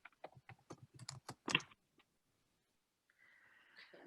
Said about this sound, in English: I was just typing a question